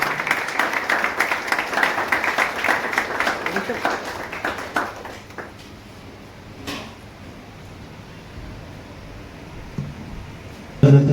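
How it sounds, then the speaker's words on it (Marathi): At a Mumbai hotel-management seminar felicitation, a room of attendees claps loudly for about five seconds before the applause dies away into quieter room noise with some talk and a few knocks. "जोरदार टाळ्या व्हायला पाहिजे"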